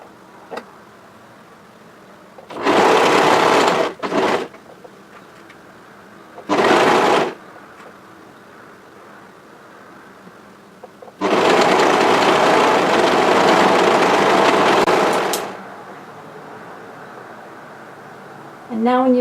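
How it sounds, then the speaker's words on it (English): An overlocker sews a hoodie seam in three bursts, two short runs followed by a longer steady run of fast, loud mechanical whirring with quiet pauses between them. "when you're ready, overlock that seam together."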